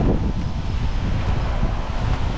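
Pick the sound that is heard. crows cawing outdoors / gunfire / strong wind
strong wind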